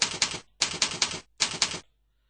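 Keyboard typing as a name is entered on a computer: three quick bursts of dense clicking keystrokes, close and fairly loud, separated by short pauses, with no talking.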